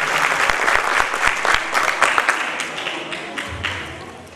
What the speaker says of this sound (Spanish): Un aplauso para el maestro, por estar arriba con su hijo.